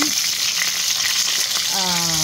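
Daing na bangus, dried milkfish, fries in a pan with a loud, continuous hissing sizzle and crackle throughout, and a brief tonal beep-like sound appears near the end.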